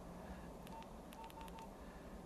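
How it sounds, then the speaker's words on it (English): A phone dials in a hospital drama: a quick series of short, faint keypad tones plays alone over a quiet room hum. "Look, it's dialing."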